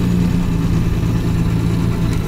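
A Jaguar Mark X 420G saloon with its 4.2-litre straight-six engine idles close by, a loud, steady low rumble with an even, unbroken throb and no revving.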